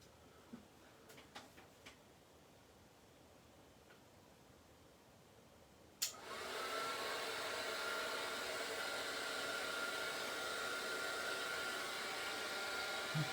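An embossing heat tool switches on abruptly and runs as a steady, loud broadband whoosh while heating a stamping project, preceded by a few faint clicks and taps in a quiet room.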